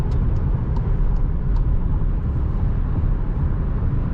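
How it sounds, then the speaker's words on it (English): Steady broadband wind roar fills the cabin of a Skoda Superb 2.0 TDI 4x4 cruising at around 140 km/h on the highway, constant and unbroken with faint engine hum beneath. "I still hear the noise of the wind"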